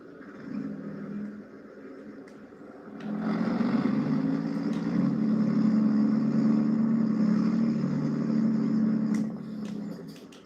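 A truck in Farming Simulator pulls forward, its engine idling low at first, then revving up into a steady, louder drone that holds for several seconds before easing back near the end.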